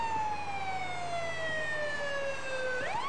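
A fire truck siren from the GTA IV Firefighter mod wails steadily and loudly, its pitch sliding slowly down before it sweeps back up at the end.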